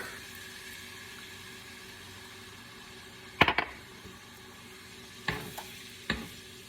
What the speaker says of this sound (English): we're just going to stir that around